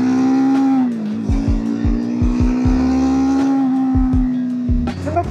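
A motorcycle engine pulls hard at speed, giving a loud, steady droning whine that rises slightly, with repeated quick thumps as gears change.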